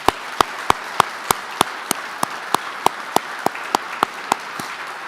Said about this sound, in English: Please join me in another round of applause for Christy, Cod, and those two premier organizations.